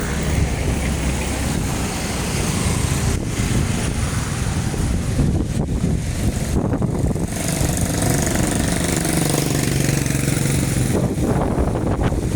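Typhoon Christine striking Surigao City in the Philippines, with strong wind roaring and buffeting the microphone in continuous loud gusts, with a rattling engine-like drone underneath.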